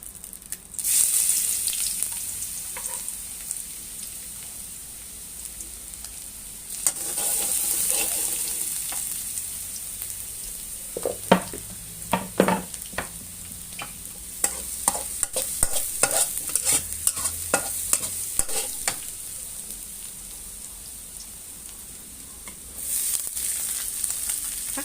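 Garlic sizzles in hot oil for stir-fried pickled mustard greens with egg, with scattered clinks and scrapes of stirring over a steady frying hiss.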